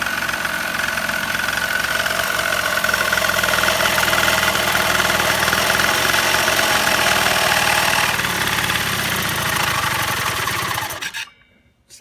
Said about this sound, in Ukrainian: Закидуємо підсос, і він у нас явно глохне.